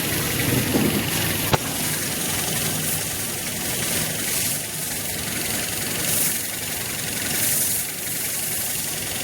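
A motorcycle engine idles steadily at a bike service centre, a constant rumbling hum held at an even level throughout, with one brief sharp click early on.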